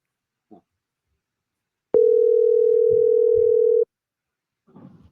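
Telephone tone heard while calling a cell phone on a podcast, one steady loud continuous tone of about two seconds with faint brief voices murmuring before and after it.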